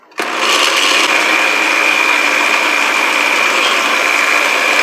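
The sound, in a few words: electric mixer blending stew seasoning mixture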